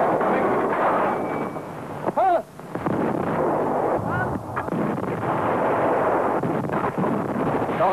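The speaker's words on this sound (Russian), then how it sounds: "Тяжелая артиллерия на позициях готова к бою." Heavy artillery firing at Sevastopol, a dense rumbling roar of gunfire and blasts with wind noise over the microphone, one sharp dip and recovery partway through, continuous and loud.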